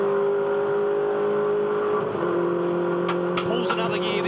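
MINI Challenge race cars accelerating through a turn on a circuit, a steady loud engine drone with a gear change midway, heard under race commentary.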